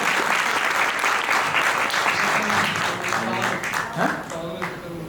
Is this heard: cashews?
no